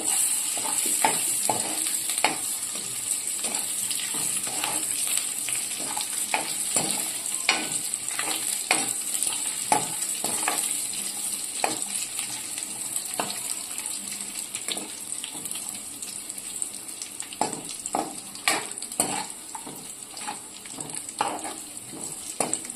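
Steady sizzling of raisins frying in a pan on low heat, with scattered clicks and scrapes of stirring throughout, fairly close and continuous.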